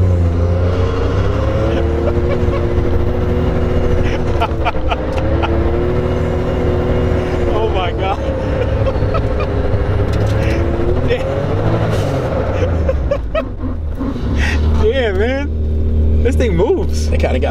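A big-turbo Suzuki Cappuccino revs hard and continuously while doing donuts in a cul-de-sac, its engine note swooping up and down in loud, close surges, with people talking over it.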